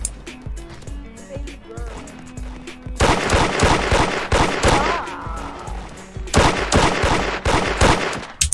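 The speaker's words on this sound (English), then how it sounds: "he's shooting me through the wall" Rapid gunfire from the Hood Modded game, sharp repeated bursts loud and close, crackling in clusters after a quieter stretch with background game sounds and a voice talking.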